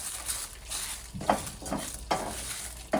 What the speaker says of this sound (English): And the dry red chilies also. Don't need to fry it for a longer time